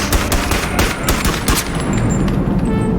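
Gunfire from a BONELAB VR game erupts in rapid loud shots, a burst of closely spaced cracks followed by more scattered reports, then a lingering rumble as the firing trails off.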